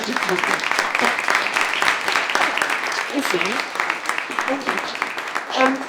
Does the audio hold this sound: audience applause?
yes